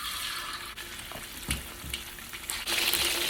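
Chicken pieces frying in hot oil until golden brown for chilli chicken: a steady, close, bright sizzle with occasional stirring clatter, and no voices.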